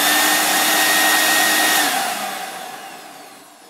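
A ducted vacuum unit motor, a PC NV200, roars loudly alone during a test run, its whine fading and winding down over the final seconds.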